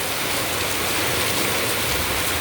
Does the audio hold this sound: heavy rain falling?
yes